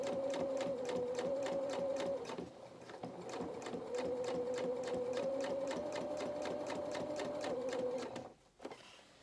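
Sewing machine stitching ribbon onto the faced lining of a dress, a steady, rapid, evenly pulsing run of stitches heard faintly and close for about eight seconds before stopping.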